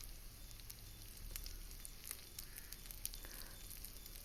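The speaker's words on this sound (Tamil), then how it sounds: "மாவு ஊற்றுனதுக்கப்புறம் நம்ம லோ ஃப்ளேமில் வச்சு தான் இதை குக் பண்ணி எடுக்கணும்" Potato masala paniyaram batter cooks in a pan over a low flame, giving a soft, faint, continuous sizzle with scattered light crackles and no talking.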